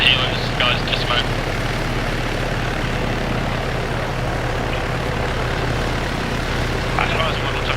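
A military helicopter in the combat game ArmA 3 drones steadily with a low, continuous rotor and engine rumble throughout, while voices break in over it now and then.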